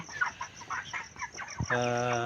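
Broiler chickens, 33 days old, cluck in short repeated bursts, close and fairly loud, ending in a longer drawn-out call.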